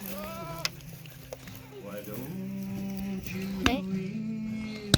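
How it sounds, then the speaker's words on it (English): Goats bleat repeatedly in a farm field, several wavering calls overlapping at close range, with scattered knocks and clatter between them and people talking quietly. "All the goats are coming to say hi."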